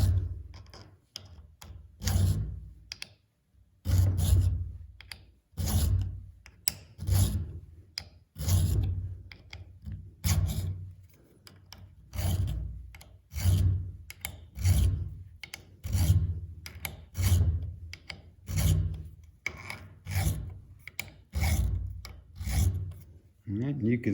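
A triangular file rasps across metal, cutting a small tooth-shaped notch. The close, steady strokes repeat in a regular back-and-forth rhythm with no talking.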